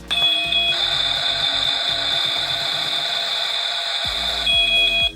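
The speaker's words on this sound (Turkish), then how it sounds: "Bu ne yani bu ocak sesi?" A Barbie toy stove's electronic sound effect plays as a loud, steady high-pitched tone for several seconds, with soft clicks and handling noise around it.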